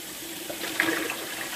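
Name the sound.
tap water running, rinsing mushrooms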